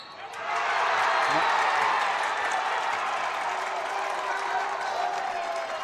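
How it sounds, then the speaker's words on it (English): Hendricken basketball fans cheering and clapping at a 2018 state tourney boys final against Mount Pleasant, a loud sustained crowd roar and applause that rises quickly and stays dense under a commentator's voice. "the Hendricken fans are showing their support as well"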